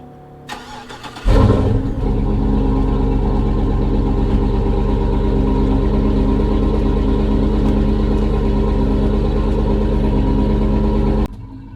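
A car fitted with a cheap straight-through muffler fires up with a short crank, then settles into a loud, steady, close idle that runs for about ten seconds before being cut off.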